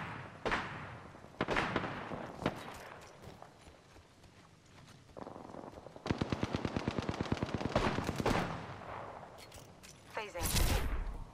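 Automatic gunfire in Apex Legends, with sharp bursts and a rapid rattling volley of shots, plus scattered single impacts and footsteps, loud and close with a heavy blast near the end.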